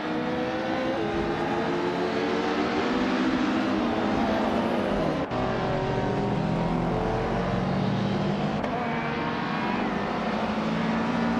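Racing car engines roaring continuously in a touring-car racing game featuring a 1993 Ford Mondeo and 1997 Volvo S40, loud steady drone with shifting engine pitch and a brief gear-change break midway.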